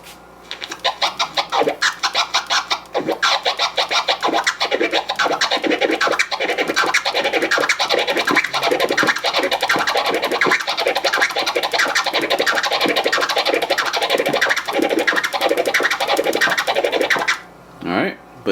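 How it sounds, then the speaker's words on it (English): A Kermit turntable scratch, two chirps then a flare twice as long, done left-handed on Ahh, Fresh and snare samples; rapid rhythmic strokes repeat for about seventeen seconds, starting slow and speeding up, then stop. "the Kermit is two chirps followed by a flare that's twice as long"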